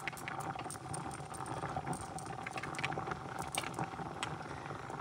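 A covered pot of Puerto Rican rice and beans is starting to boil, giving a steady bubbling patter and soft liquid noise over constant background hiss, with no speech.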